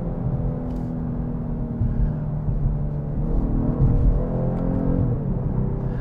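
A 2022 Genesis G70 3.3T sedan downshifting on the road: a steady low engine rumble from inside the cabin, with revs swelling upward a couple of times.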